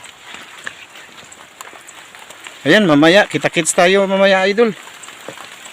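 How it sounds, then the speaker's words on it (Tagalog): Rain falls steadily on a rural countryside area, a soft continuous hiss spread across the scene that carries on beneath someone talking loudly up close. "Ayan na yung ulan mga idol."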